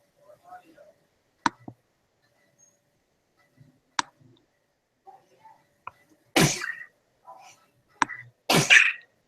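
Two sharp, loud sneezes break out near the end of a quiet stretch of a meeting, after scattered soft clicks, faint murmurs and small mouth noises.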